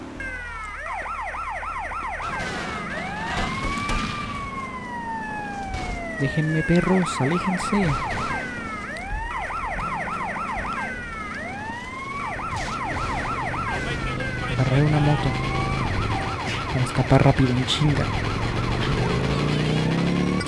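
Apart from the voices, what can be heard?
police car siren in GTA Liberty City Stories video game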